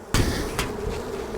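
Honey bees swarm around an opened hive during a honey harvest, a steady close buzzing hum with a sharp knock or thump near the start and another midway, no voices.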